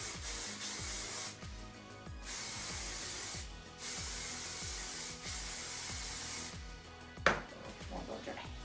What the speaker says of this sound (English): More hairspray.